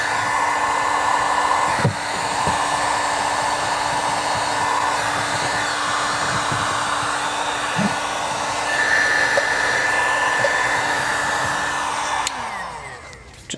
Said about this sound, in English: now we're gonna grab the heat gun, go through.